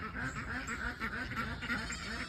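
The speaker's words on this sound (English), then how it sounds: "Got some loud ducks." Wet ducks out in the rain quack loudly in a fast, continuous run of overlapping calls, close by and filling the whole stretch without any talk.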